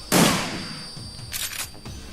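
A single sharp gunshot from the video game Shadowrun Returns cracks loud and close, then rings off into a metallic tail, with a fainter burst of shots following about a second later.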